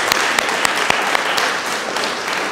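A crowd applauding steadily at an architecture competition awards event, dense clapping that stays loud and even throughout with a few sharper claps standing out.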